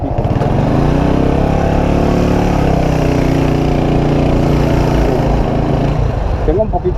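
A motorcycle engine runs close by with a steady buzzing drone that holds evenly, then eases off at the end.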